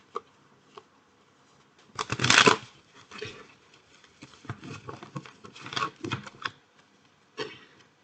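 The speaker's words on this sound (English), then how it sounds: "So let's draw a couple of tarots." Tarot cards shuffled by hand, a quiet room with a sharp riffle burst followed by scattered soft flicks and card taps at irregular intervals.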